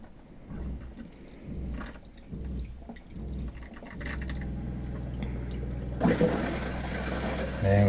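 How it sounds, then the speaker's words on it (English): Water runs from the hot tap of an RV bathroom sink and gurgles through the pipes, a steady low rush that grows suddenly louder and brighter near the end as the flow surges close by. "I'm going to turn the hot water on here and let that run for a sec."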